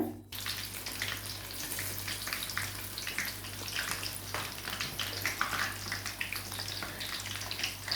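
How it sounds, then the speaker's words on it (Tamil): Marinated soya chunks fry in oil on low heat, making a continuous, even sizzle and bubbling that stays steady throughout with no talk over it. "இதை வந்து எண்ணெயில் போட்டு நல்லா சிம்மில் வச்சுக்கோங்க"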